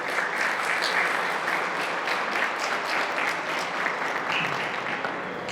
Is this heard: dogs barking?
no